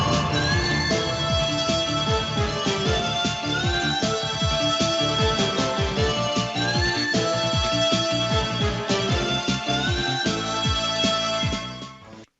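Climax section of the regular boss theme from the video game Revita: loud, continuous electronic music with sustained melodic tones over a steady run of punchy low hits, fading out at the very end.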